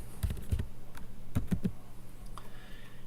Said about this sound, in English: So let's just type in waffle.